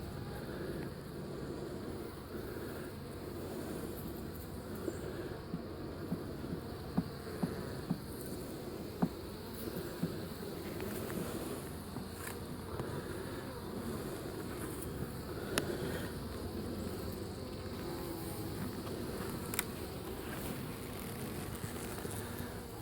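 Honey bees buzzing around an opened hive with no brood and no queen, a dense steady drone of many insects close by, with occasional louder passes and faint clicks, no voices.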